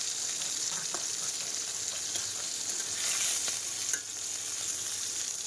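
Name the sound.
fish frying in a pan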